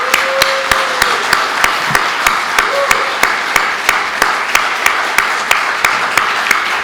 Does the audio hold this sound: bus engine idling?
no